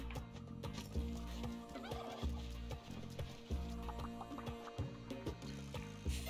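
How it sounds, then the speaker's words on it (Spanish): Turkeys gobble in the video game Spelunky 2, several rapid warbling gobbles repeating about once a second over a steady game music backdrop, no talking. "¿Saben qué voy a hacer con estos dos pavos?"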